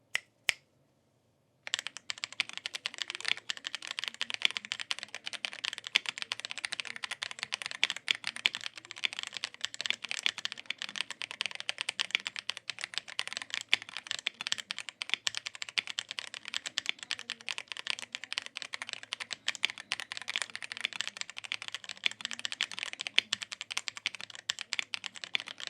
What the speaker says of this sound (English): let's go and connect this keyboard to my gaming PC and let's check the RGB and sound